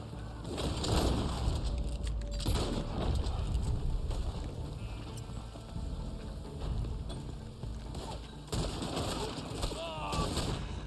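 Gunfire in the online western game Red Dead Online: dense, repeated shots and booming reports fill the scene continuously at close range, layered over game ambience and a few brief voice sounds.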